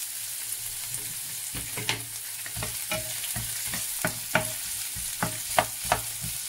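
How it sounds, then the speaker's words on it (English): Onions and garlic frying in a pan, a soft sizzle punctuated by sharp, irregular scrapes and taps of a stirring utensil, close and alone. "Then I'm going to add in our onions and garlic."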